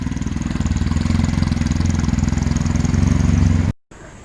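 A 2020 Yamaha MT-09 motorcycle engine runs close by with a loud, steady, pulsing idle, then cuts off abruptly near the end.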